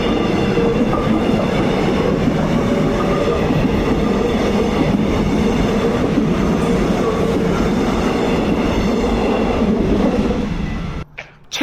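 A Seoul subway Line 4 train runs with a loud, steady rumble and rattling wheel noise. A faint whine rides over it, and the sound cuts off abruptly at the end.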